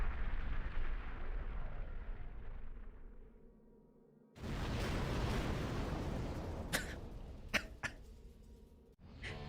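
Explosions in a mech action video game: a long rumbling blast fades out, then after a brief gap a second loud, sustained roar of fire and debris follows, broken by several sharp cracking bursts near the end.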